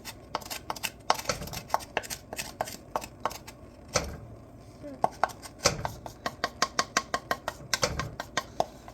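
A spoon clinks and scrapes repeatedly against a pot while sugar and pectin are stirred into mulberry jam, giving rapid, irregular knocks close by with brief pauses.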